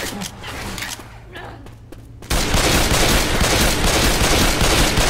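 Gunfire in Left 4 Dead 2: quieter game ambience with a voice and scattered shots, then a sudden jump into loud, dense, sustained firing that continues for the remaining few seconds.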